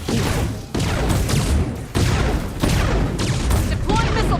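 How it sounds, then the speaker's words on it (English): Missile barrage explosions in the sci-fi strategy game Zero Space: a loud, dense run of bursts and booms in rolling waves, with a few sharp drops between volleys and no gaps of quiet. "Deploying missile barrage."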